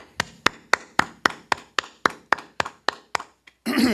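Audience clapping together at an ISUPK Wednesday night class, about eleven sharp, evenly spaced claps in a steady rhythm, close and fairly loud, ending with a short burst of mixed noise.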